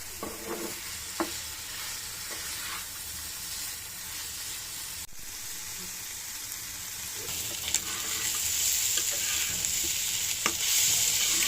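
Small chopped fish pieces frying in a pan give a steady close sizzle throughout, with occasional stirring scrapes and clicks and the frying swelling louder toward the end; no one speaks.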